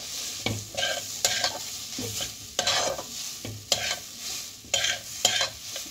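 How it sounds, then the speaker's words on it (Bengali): A spoon scrapes repeatedly through fried spice masala in a pan of pea filling for kochuri, giving a steady rhythm of close stirring strokes over a soft sizzle. "সর্বশেষে আমি ভাজা মশলাটা দিয়ে দেব"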